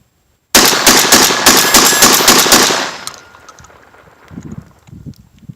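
Mossberg 930 SPX semi-automatic shotgun firing light-load Federal shells, a rapid burst of about eight loud close shots in quick succession, ringing out and then fading into quiet handling noises.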